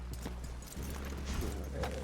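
Horses' hooves clatter in a quick, steady clip-clop in the Red Dead Redemption 2 video game, playing fairly close over a low, continuous rumble.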